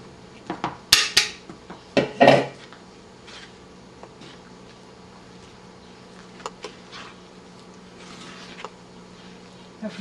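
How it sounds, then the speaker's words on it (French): Egg cake batter stirred in a bowl: a quick cluster of clattering scrapes and knocks from the spoon early on, then a few faint, scattered taps over a quiet room. "Et vous touillez."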